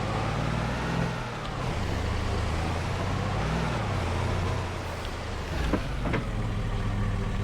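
Engine of the Lizard Road Rage, a Lizard-branded Ford Mustang car in Farming Simulator 22, a steady, close, deep throaty rumble that holds a constant pitch with slight revving, then a couple of brief clicks near the end.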